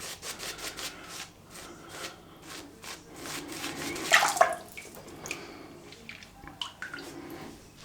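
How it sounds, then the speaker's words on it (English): Steady wet brushing and swirling of shaving soap being lathered before a Merkur Vision razor, a soft continuous scrubbing texture close by with no talking. "that's why I'm lathering for so long"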